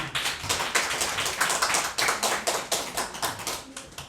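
Rhythmic clapping from a church congregation during a year-end Sunday service quiz, many hands striking together in a steady beat of roughly four claps per second, fairly close and even.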